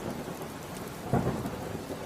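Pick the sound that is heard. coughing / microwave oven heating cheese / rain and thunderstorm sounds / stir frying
rain and thunderstorm sounds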